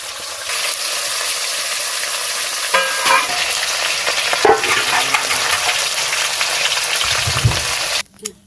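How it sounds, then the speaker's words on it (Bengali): Hilsa fish pieces fry in hot oil in a village kitchen, giving a steady, close sizzle that runs almost unbroken, with a few stirring clatters and a brief clink near the end. "মাছটা একটু হালকা করে এপিট ওপিট ভেজে নেব"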